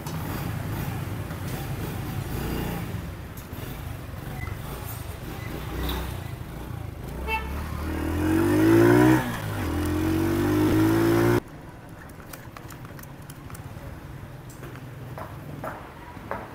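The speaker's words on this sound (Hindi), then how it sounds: "अभी हम इस बाइक को एक बार चला के भी चेक कर लेते हैं।" Honda CD 70 motorcycle, a 2025 model, on a short test ride, its small single-cylinder engine revving up with rising pitch before cutting off abruptly, followed by quieter background noise.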